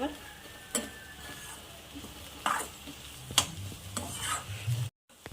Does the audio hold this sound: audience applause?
no